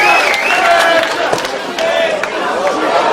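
Crowd shouting and cheering at the Polaris 6 MMA grappling event, Benson Henderson vs AJ Agazarm, a steady roar of many voices with brief louder swells throughout.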